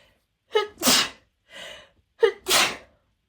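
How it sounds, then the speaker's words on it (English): Two sneezes, each with a sharp inhaled gasp followed by a loud burst, separated by a short breathy pause, close and alone. "I'm gonna sneeze"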